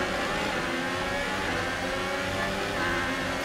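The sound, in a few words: F1 2018 video game car engine grinding and ticking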